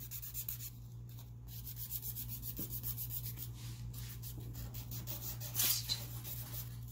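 A nail file roughens gel polish on fingernails, close, quiet scratchy rubbing strokes in a steady back-and-forth rhythm over a low constant hum.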